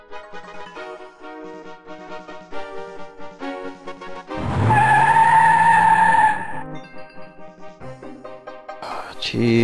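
Tires skid and screech during a car chase in the Indiana Jones and the Fate of Atlantis adventure game, a sustained squeal of a few seconds set between game music notes, with synthetic engine and effect tones around it.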